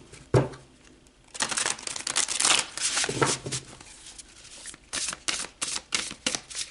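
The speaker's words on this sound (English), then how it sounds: "Let's pull some more cards." Tarot cards being shuffled by hand, a burst of crisp riffling and flicking strokes after a soft tap, continuing in uneven rustling bursts up close, with no talking.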